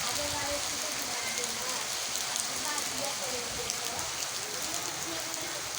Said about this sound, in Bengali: ধোয়ার মতো বৃষ্টি করতেছে